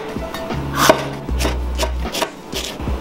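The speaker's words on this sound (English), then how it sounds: "I'm gonna cut this into diagonal slices" Kitchen knife slicing a jalapeno into diagonal slices on a cutting board, a series of crisp chopping taps in an uneven rhythm, close and clear with no talk.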